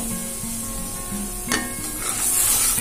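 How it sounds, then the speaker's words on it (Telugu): Cumin and sesame seeds fry in a pan for gutti vankaya masala curry, a soft steady sizzle with a brief scrape or stir partway through and a hiss that rises toward the end. "వేసుకొని అన్నిటిని ఫ్రై చేసుకుందాం"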